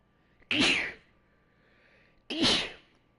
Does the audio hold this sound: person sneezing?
yes